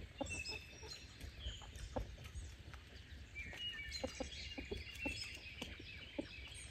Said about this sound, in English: There's Mr. Rooster there.